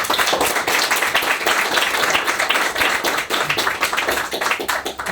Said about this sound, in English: So let's give Kohei one more round of applause